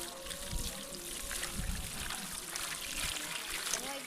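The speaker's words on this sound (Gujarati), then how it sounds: "કેરીને છે ને આપણે 1 થી 2 પાણીએ ધોવી પડે સરસ મજાની." Mangoes are washed by hand in water in a steel vessel, with continuous close trickling and sloshing as a voice talks faintly underneath.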